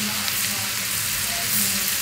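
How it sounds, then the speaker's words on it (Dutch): Spinach sizzles in Blue Band butter with red onions and a little pepper in a home Surinamese kitchen, a steady, close frying hiss that runs unbroken throughout. "Dus zo ga ik mijn spinazie bakken."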